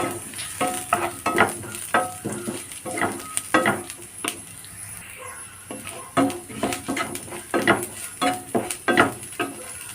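Ground dried chili is sautéed in a pan for a spicy fish curry, with repeated spatula scrapes and clinks sounding in a rough rhythm over a soft, steady sizzle, close and fairly loud, with no talking.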